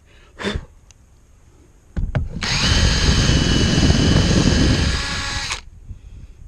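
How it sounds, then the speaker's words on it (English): A Forstner bit bores into wood while making a mallet: a loud, steady drilling whine lasting about three and a half seconds, preceded by a brief bump and short spin-up. "Love me a Forstner bit. Basically like a round chisel."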